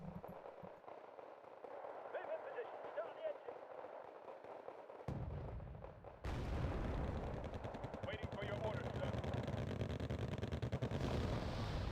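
Rapid bursts of .50 cal machine gun fire in the strategy game Wargame: Red Dragon, dense rattling volleys that grow louder and continuous in the second half, with other distant battle noise and a voice talking over it.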